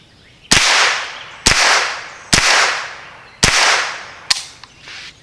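Five sharp, loud rifle cracks from CCI AR Tactical 22LR ammunition, spaced about a second apart, each cutting off quickly with a brief echoing tail; no talking between shots.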